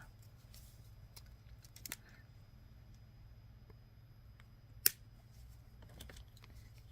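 Excess wire snipped off with cutters, a single sharp metallic snip standing out over a low steady hum, with a couple of fainter clicks and handling taps around it.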